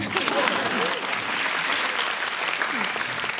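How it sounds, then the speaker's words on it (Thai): Audience applause at a Pecha Kucha speaking event in Bangkok, a dense, even clapping from a crowd that holds steady for a few seconds with faint voices mixed in. "เสียงปรบมือด้วยครับ"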